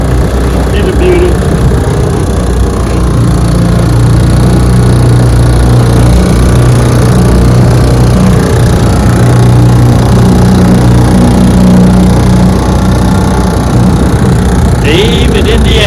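A 1952 Johnson 3 HP outboard motor runs in gear with a steady, loud engine drone throughout, a low continuous rumble that never breaks.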